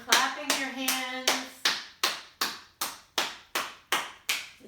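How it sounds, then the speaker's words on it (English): Bare hands clap together at a steady, slow rhythm during a yoga session, about a dozen sharp, close claps in a row with no talking in between. "Coming all the way down, clapping your hands"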